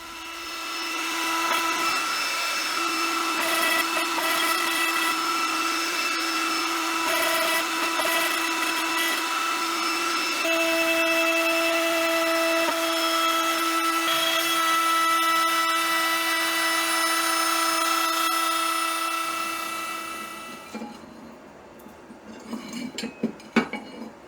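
A CNC machine cuts out a wooden part, a top extension piece, with a continuous high whining spindle tone and steady cutting noise that holds for about twenty seconds before winding down into quieter clicks.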